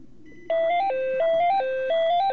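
A phone ringtone plays a bright, repeating electronic melody of stepped tones for an incoming call. It starts abruptly and rings steadily and clearly, with no talk over it.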